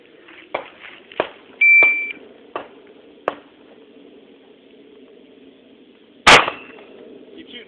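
Gunfire at the Corona Sportsmen Club tactical shooting range: several sharp, fairly distant reports at irregular intervals, one louder blast near the end, with a short electronic beep early on.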